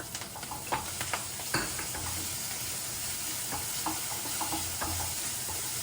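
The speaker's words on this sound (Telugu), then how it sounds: "ఈ అల్లం పచ్చిమిరపకాయ ఉల్లిపాయలు అన్నీ వేగేటట్టు చూసుకొని కొంచెం లైట్గా వేగిపోయాయి" Ginger and green chilli paste with onion and a pinch of asafoetida frying in a pan: an even sizzle under repeated scraping stir strokes, with a few sharper ticks early on.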